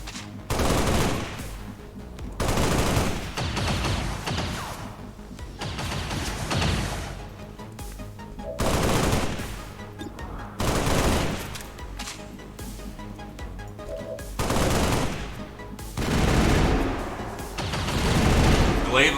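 Enemy gunfire in XCOM 2 arrives in repeated loud bursts of rapid shots and booms, separated by short gaps, with people talking in between.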